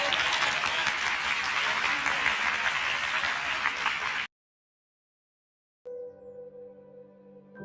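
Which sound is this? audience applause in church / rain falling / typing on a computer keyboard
audience applause in church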